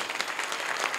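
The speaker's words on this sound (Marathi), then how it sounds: "एकदा टाळ्या वाजवा सर्व साथीदारासाठी" A kirtan audience claps for the accompanying musicians in a short, dense burst of applause, moderately loud and continuous from start to end.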